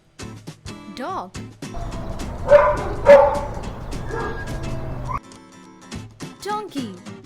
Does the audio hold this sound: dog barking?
yes